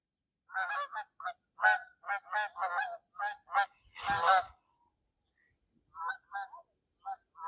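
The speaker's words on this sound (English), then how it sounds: "You guys are early, Canadian geese." Canada geese honking in a series of loud, close calls, about a dozen bursts in quick succession followed by a pause and a few more scattered honks.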